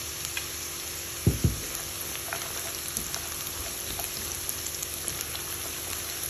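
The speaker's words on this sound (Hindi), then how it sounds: "ये देखें लहसुन और अदरक और प्याज अच्छे से फ्राई हो गए हैं" Garlic, ginger, onion and cashews frying in a pan, a steady soft sizzle throughout with a couple of brief clinks of a spoon stirring early on, no voices.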